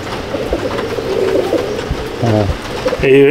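Pigeons in a loft give low, throaty coos, with a couple of distinct rolling calls standing out near the end over a soft bed of background noise.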